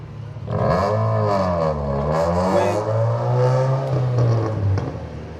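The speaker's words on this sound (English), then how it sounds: "Loud cars, man." Loud cars rev and roar past, engine pitch rising and falling in a steady sweep for several seconds, close and continuous with no talk over it.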